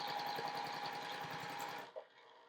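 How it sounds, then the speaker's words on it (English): A sewing machine runs steadily while stitching a quarter-inch quilt seam, its rapid needle hum continuous and close for nearly two seconds before stopping abruptly, followed by a faint click and quiet room tone. "And sew the 1/4-inch seam, just making sure those little seams lay the direction I wanted to"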